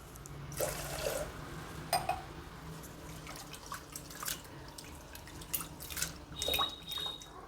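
Moong dal being rinsed in water in a home kitchen, with soft drips and splashes of liquid, a few brief louder sloshes and a faint tap-like trickle, fairly quiet throughout.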